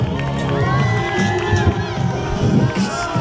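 A lively crowd at a BMX stunt show cheers and shouts continuously, with children's high-pitched yells and whoops rising over a dense roar of voices.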